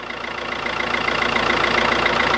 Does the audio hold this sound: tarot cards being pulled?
no